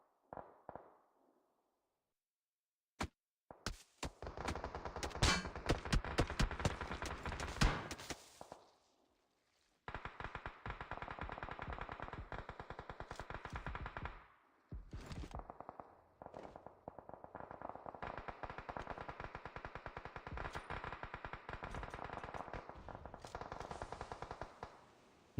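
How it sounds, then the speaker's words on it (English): Distant-sounding rapid gunfire bursts in a battle royale video game, long-range shots crackling in dense volleys separated by short pauses, with no talk over them. "Oh, long range shots there."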